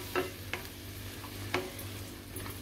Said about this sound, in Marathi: आता मीडियम गॅसवरती आपला मसाला चांगला शिजवून परतून घ्यायचा आहे आपल्याला